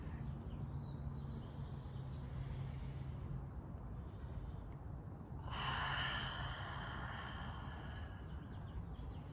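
Two long, loud exhales of deep breathing, each a soft breathy rush, come between quieter inhales against a faint hiss.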